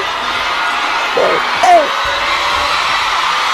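Crowd at a political rally for Sara Duterte in the Philippines, with distant shouts and a brief whoop rising over a steady crowd murmur while someone talks over it close up.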